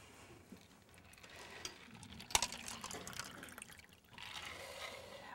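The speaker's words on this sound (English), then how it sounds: "I'm going to pour water because I get dried mouth" Water is poured into a glass before a talk at a stroke education day, a soft, continuous trickle and splash that builds toward the end, faint and close, with a brief clink partway through.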